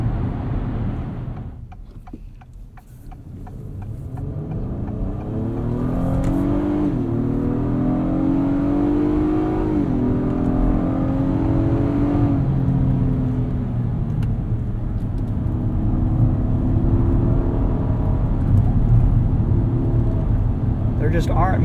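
A 2022 Acura MDX A-Spec SUV is driven hard through corners, its engine droning and rising in pitch under acceleration with a steady roar of road and wind noise throughout, heard from inside the cabin.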